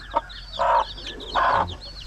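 Chickens cluck in short repeated bursts on a free-range farm, close by and fairly loud, with no one talking.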